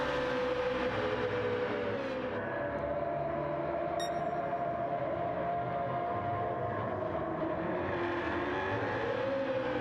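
Race cars in Gran Turismo 7 drive hard through turns during an online racing league event. Engines whine and rev steadily and fairly faintly, with shifting pitch, as two cars battle closely.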